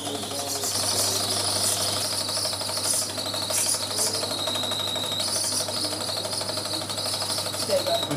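Metal being machined on a hand-wound machine at a kids' engineering course, giving a steady, loud chattering, grinding drone with high whining squeals that runs throughout, while an instructor talks intermittently over it.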